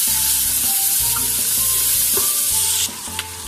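Sliced onions frying in hot oil for lauki gosht, a loud continuous sizzle close by under a repeating low hum, with stirring scrapes and the sizzle briefly changing character near the end.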